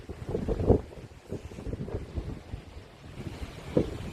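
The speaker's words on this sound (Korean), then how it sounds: "이 자연이 주는 싱그럽, 또 자연이 주는 이 시원한 바람" Cool wind blowing outdoors in nature, a steady rushing buffet across the microphone with a few stronger gusts, alone with no talking.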